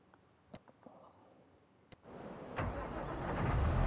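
A truck engine in Farming Simulator 25 starts up after a few faint clicks, then settles into a rising, steady rumble that grows louder toward the end.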